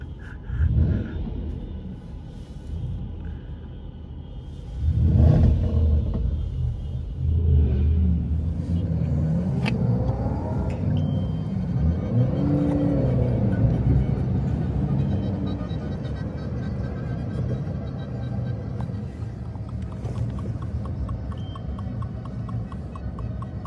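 Cars sit in a traffic jam on a Dubai street during a crowded celebration. A steady low rumble of idling and slowly moving engines swells louder briefly early on, then continues at a constant level with no clear talk.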